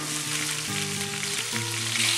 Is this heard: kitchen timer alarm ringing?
no